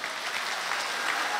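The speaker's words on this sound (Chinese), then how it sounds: "掌声欢迎" Applause from a concert audience at a church anniversary celebration, a dense steady wash of clapping throughout the short stretch.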